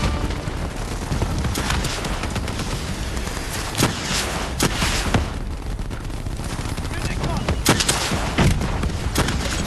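Gunfire rages in the video game Call of Duty Black Ops III, a dense, continuous fusillade of shots with sharper bursts and booms standing out against a loud, busy battle din.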